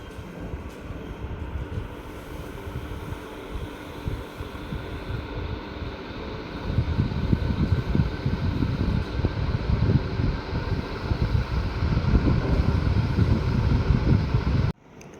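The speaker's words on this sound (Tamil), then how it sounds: "இப்போ ஃபேனை வந்து ஆன் பண்ண போகிறோம்." A newly assembled ceiling fan is switched on and runs with a steady low whir and rumble, growing louder partway through as it speeds up, then cutting off abruptly near the end.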